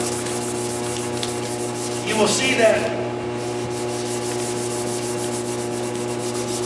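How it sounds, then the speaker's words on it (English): A car headlight lens being sanded with 400 grit sandpaper, a steady close scraping rub with a louder burst of strokes midway, while a person talks briefly. "you want to take the sandpaper, this 400 grit, and you want to sand the entire surface of the headlight"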